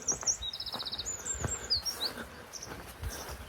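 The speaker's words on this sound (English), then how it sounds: "Accompanied by birdsong" Birdsong with repeated high chirps and trills from several birds during a morning walk on a long-distance upland trail in the Scottish Borders, heard alone and moderately near against soft outdoor background.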